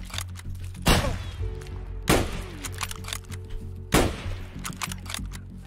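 Gunshots in the video game Escape from Tarkov: three sharp, loud single reports spaced about a second or two apart, with clatter and low ambient hum between them.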